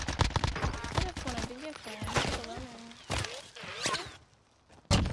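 Bursts of gunfire in Warzone, an online shooter, sound in sharp rapid clusters across the clip, mixed with footsteps and gear noise, while a player talks over much of it.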